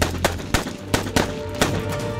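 A dramatized police shootout sounds with sharp gunshots, about six irregularly spaced cracks over a low rumbling backdrop, loud and close.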